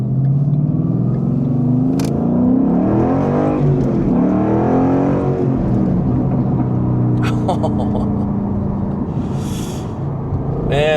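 A 2012 Ford Mustang Boss 302 engine revs and accelerates up close, pitch climbing through gears with a throaty growl, and a few brief clicks and squeaks in between.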